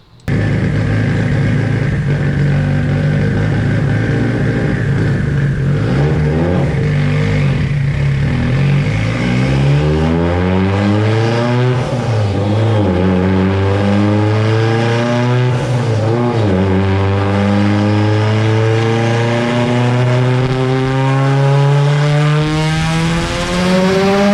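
A Mitsubishi Evo 9 RS with a Precision 6262 turbo, GSC S2 cams and ID1700x injectors running E85 revs up hard and repeatedly. The close, loud engine note climbs and falls in long sweeps across a sustained run with no talk.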